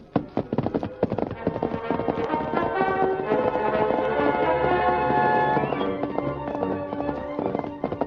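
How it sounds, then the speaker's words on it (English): Rapid hoofbeats clatter in a steady galloping rhythm, fairly loud and close, under a dense musical backdrop. "the Lone Ranger set out in the darkness on his great horse, Silver."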